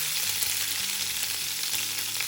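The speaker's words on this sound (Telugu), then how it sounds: "ఇప్పుడు పచ్చిమిరపకాయలు కొద్దిగా వేగనివ్వాలి." Three chopped green chillies fry in a pan for a bottle gourd curry, giving a steady, close hiss and crackle with faint stirring sounds and no talk.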